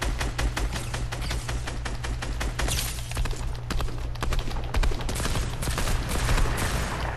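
Rapid bursts of gunfire from the video game Fortnite, with fast repeated sharp shots in quick volleys over several seconds, moderately loud, with a brief lull near the middle.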